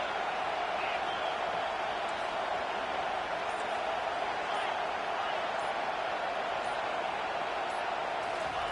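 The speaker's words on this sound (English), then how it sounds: "It is getting loud as this crowd tries to help its defense." A stadium crowd roars in a college football video game, Auburn against Alabama, as a dense, unbroken wash of noise that holds steady and loud throughout.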